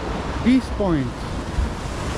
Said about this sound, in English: the ocean is relatively calm. Not a lot of strong waves.